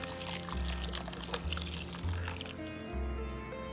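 Boiled hot water pours steadily into roasted rava (semolina) in a pan for a Tamil-style rava kichadi, a continuous close splashing stream with faint background hum.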